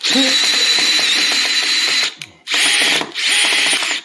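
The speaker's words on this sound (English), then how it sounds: "And then you're going to screw that back out." A screwdriver turns the screw of a new receptacle outlet, making a loud, close ratcheting clatter that runs for about two seconds, pauses briefly, then returns in two more short bursts.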